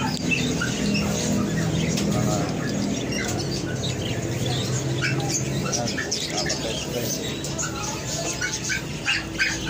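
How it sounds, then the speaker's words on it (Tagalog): Lovebirds and other caged birds in a market pet shop chirp and squawk constantly, in a busy, noisy space, while people talk nearby. "Ayan, mga lovebirds. Ito, maraming birds."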